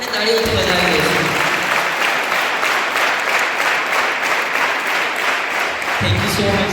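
Applause from an audience at a school program as a student is honored, dense clapping filling most of the time with voices briefly audible at the start and end.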